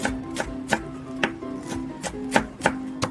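A knife chops scallions finely on a cutting board. About a dozen crisp, evenly spaced knocks sound close and clear, with no talk.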